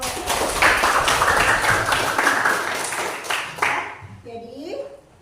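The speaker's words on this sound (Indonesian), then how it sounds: "Oke, tepuk tangan dulu." A classroom group claps together, a burst of quick, overlapping hand claps that fades out toward the end, followed by a brief voice.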